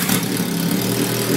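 A car engine runs at a steady mid-pitched drone throughout, loud and close, with no clear rise in revs over the short span.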